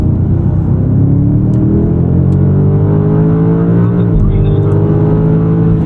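A 2025 BMW M5 weighing about 5400 lb drives on a race track, its engine a loud, steady interior rumble with a rising and falling drone as speed changes, and people talk over it.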